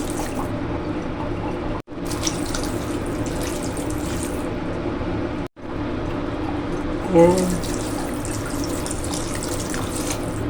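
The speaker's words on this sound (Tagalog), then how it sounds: "Then maglalagay tayo ng tubig." Tap water pours steadily into a cooking pan while pancit bihon is being made, a loud continuous gush that cuts off briefly twice, and a single short word is spoken.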